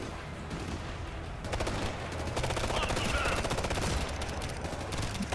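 Rapid automatic gunfire in the shooter game Ghost Recon Future Soldier, bursts of fast repeating shots at moderate level over a steady background, no talk.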